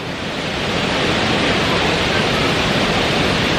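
Bolinao Falls, a low waterfall in Pangasinan, Philippines, pours as a dense, steady roar of rushing water, close and unbroken with no other sounds.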